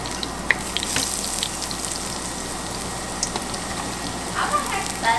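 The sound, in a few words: ginger frying in a pan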